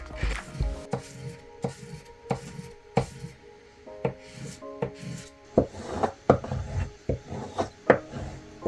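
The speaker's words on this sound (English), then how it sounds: "Then came sharpening. A cheap diamond plate, some cheap sandpaper, a homemade leather strap, and a little compound." A knife blade is sharpened on a cheap diamond plate, sandpaper and a homemade leather strop, giving a rhythmic series of close, scraping rubbing strokes with sharp taps between them.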